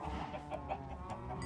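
Chickens cluck in a Minecraft farm, a soft, low-level run of short clucks and calls standing alone with no talk.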